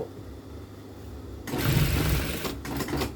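A sewing machine stitches a long run along an existing seam while altering the hips of a garment. After a quiet opening, a steady, close mechanical whirring starts up, with a couple of short pauses near the end. There is no talking.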